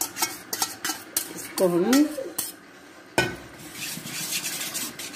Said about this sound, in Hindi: दही को हम अच्छे से इसमें फेंट लेंगे, मिक्स कर लेंगे, इसमें कोई गुठलियाँ ना हो।